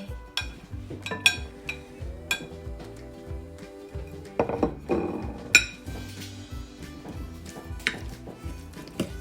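Spicy Lao-style mackerel salad with long beans being stirred in a bowl, giving repeated close clinks and scrapes of utensil against the dish over steady background music.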